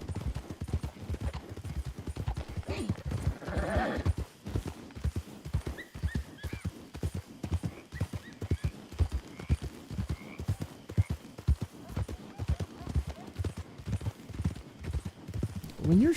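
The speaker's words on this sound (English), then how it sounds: "He kept that wagon going with just one draft horse attached." A single draft horse pulling a wagon in a video game clip-clops in a steady, rapid hoof rhythm, with a brief neigh partway through, up close and loud throughout.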